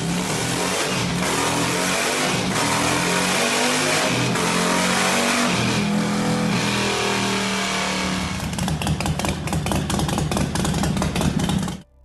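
Supercharged Harley-Davidson motorcycles rev hard and continuously up close, their engines rising and falling in pitch, with the sound turning into a rougher, choppier rumble near the end.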